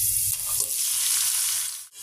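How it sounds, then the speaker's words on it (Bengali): Chicken meat sizzles loudly as it hits hot oil with frying onions, cinnamon, black pepper, cardamom and cloves, a bright steady crackle with a brief stir and a short dip near the end. "সব রকম দারচিনি, গোলমরিচ, এলাচ, লবঙ্গ, পেঁয়াজ ভাজার মধ্যে আমি এখন মাংসটা দিয়ে দিচ্ছি।"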